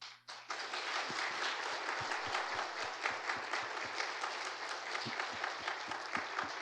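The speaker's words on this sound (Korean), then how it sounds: "우리 다 같이 박수하겠습니다" A church congregation applauds newly appointed honorary deaconesses at an anniversary and ordination service, sustained even clapping from many hands filling the hall, with a low hum and soft thumps underneath.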